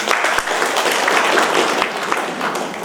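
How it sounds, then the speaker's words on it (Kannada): A crowd gives warm, sustained applause for a woman Booker Prize winner at a Kannada-language gathering: dense, steady clapping from many hands, fairly close and loud, with no speech over it. "ಎಲ್ಲ ಒಂದು ದೊಡ್ಡ ಚಪ್ಪಾಳೆ ತಟ್ಟಿ"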